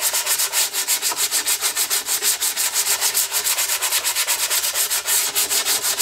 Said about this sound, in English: So I've got some 180 grit, just going to give it a once over